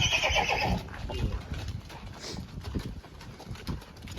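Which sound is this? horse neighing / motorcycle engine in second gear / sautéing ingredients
horse neighing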